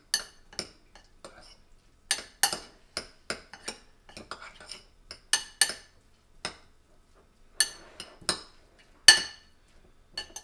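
A utensil clinks and scrapes against a dish while a pre-workout meal is mixed, a run of sharp irregular taps and clatters close by, some louder than others, with quiet pauses between.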